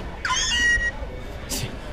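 Meowth's cat cry from the Pokemon Go video game, a short high meow followed by a brief second squeak, close and clear, with voices talking around it.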